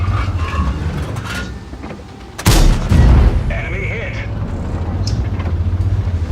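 A tank cannon fires once in a tank game, one loud sharp boom with a short rumbling tail, heard over steady engine drone and someone talking throughout.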